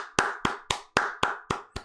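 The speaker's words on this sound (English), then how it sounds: "Nice little clap there" A run of seven sharp hand claps at a steady, fairly quick rhythm, close and crisp, each with a short decay and no talking between them.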